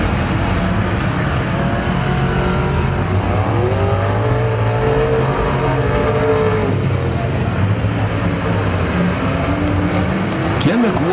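A figure-eight race car roars at Perris Auto Speedway, its engine droning and revving loudly and continuously as it pulls back under power, with a track announcer talking over it.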